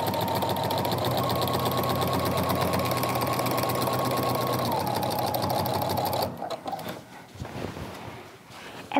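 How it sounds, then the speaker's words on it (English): A Baby Lock Rachel basic-model sewing machine runs steadily for about six seconds at a longer stitch length with a walking foot for quilting, a fast, even mechanical whir up close, then stops and leaves faint handling noises. "I deliberately did this entire class on this basic model sewing machine."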